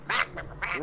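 A turkey gobbling in a video game, three short nasal squawking calls in quick succession, fairly loud and close with no talking over them.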